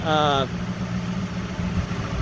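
A 1996 Ford Mustang GT engine idles steadily after its cooling system is refilled, a low, even rumble that continues throughout after a short high beep at the very start.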